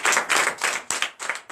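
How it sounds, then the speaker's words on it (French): A church congregation at a Sunday service in Benin claps in fast, loud, steady bursts of many hands, with short pauses between rounds and no voices on top. "je vous demande d'applaudir encore très fort"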